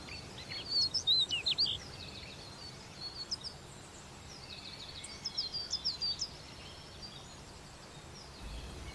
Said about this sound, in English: You hear the birds chirping, the waterfalls flowing.